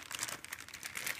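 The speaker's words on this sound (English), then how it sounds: "I should be able to open this packaging also." Plastic packaging of a Saitek X-55 flight controller crinkles and crackles close up, in a short burst of dense, continuous rustling.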